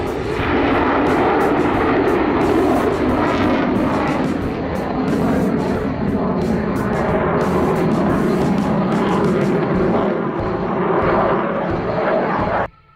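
The HAL AMCA, an Indian military fighter aircraft, roars loudly and steadily for the whole stretch, a dense continuous engine rush that cuts off abruptly at the end.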